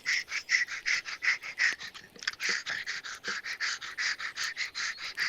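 A dog pants rapidly and steadily, a quick, breathy in-and-out rhythm close by, continuing without pause throughout.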